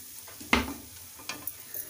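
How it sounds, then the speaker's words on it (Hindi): Pav bhaji masala being stirred into a pan of mashed vegetables, Mumbai street-food style: one sharp scrape of a spoon against the pan, then a few softer scrapes, faint and close, with no talk. "और इसे अच्छे से मिक्स कर लेते हैं।"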